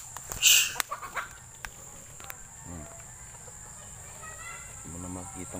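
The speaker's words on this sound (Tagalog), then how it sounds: "Tapos may manok." A rooster crows in a short burst near the start, followed by scattered faint clucks and insect chirping in an outdoor farmyard by rice fields.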